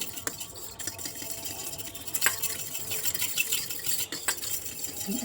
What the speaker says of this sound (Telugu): కార్న్ఫ్లోర్ ఎక్కడ ఉండలు కట్టకుండా బాగా కలిపి పక్కన పెట్టుకోవాలి